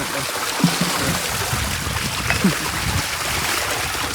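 Water flows and trickles steadily through an irrigation channel in a groundnut field, a continuous broadband rush with a couple of faint splashes and no clear talking.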